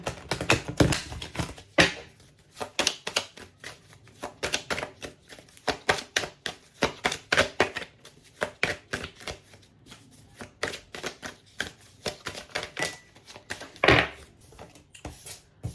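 Cards riffled and shuffled over and over, a dense run of quick papery flutters and snaps, close by, with short pauses between bursts and no talking.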